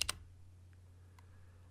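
A single sharp key press on a computer keyboard during photo-editing work, one crisp click at the very start followed by quiet room hum.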